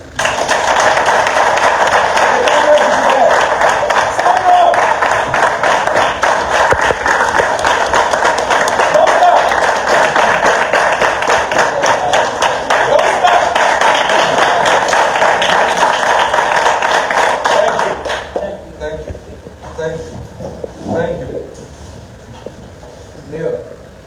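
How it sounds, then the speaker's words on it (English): An audience at a student presentation of a redevelopment design concept claps loudly and continuously for about eighteen seconds before the applause abruptly stops and a voice begins talking. "give yourselves a round of applause"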